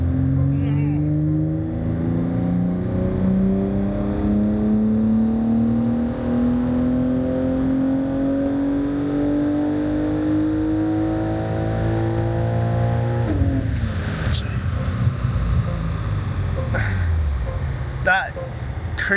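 A BMW M3 Touring tuned to stage 2 on ethanol accelerates hard in fifth gear, its engine note climbing steadily in a long loud pull heard from inside the car, with people talking over it.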